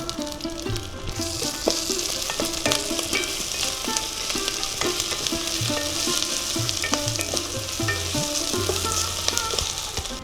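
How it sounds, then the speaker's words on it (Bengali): Grated ginger and raisins fry in hot oil for a Saraswati Puja bhog khichuri, sizzling loudly and continuously close by while a spoon stirs and scrapes in a regular rhythm. "কিশমিশগুলো নাড়িয়ে চাড়িয়ে আমি গ্রেট করে রাখা আদা দিয়ে দিচ্ছি।"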